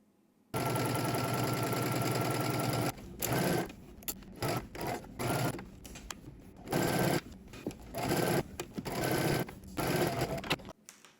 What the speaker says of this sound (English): now we're going to head to the sewing machine and we're going to stitch all the way around using 5/8 of an inch seam allowance